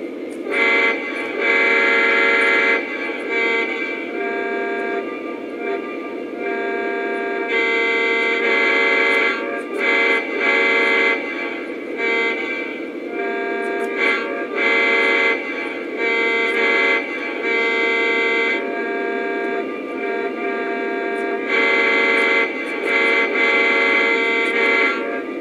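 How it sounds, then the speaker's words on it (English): A Lionel Legacy HO-style model of a Norfolk Southern SD90MAC locomotive sounds its multi-chime horn in repeated long blasts and short toots, loud and close, with no talking. "let's go ahead and listen to the horn"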